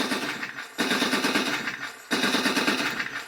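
Bow machine gun sound effect from a 1/16 scale RC Sherman tank, two loud sustained bursts of rapid electronic gunfire separated by a short pause, heard alone.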